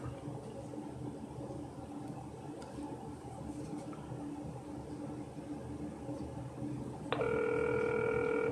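A telephone handset gives a low, faint hum over room noise for several seconds, then a steady, louder dial tone cuts in near the end and holds to the close.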